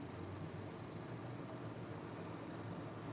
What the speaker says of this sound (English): Like I keep hearing these engine sounds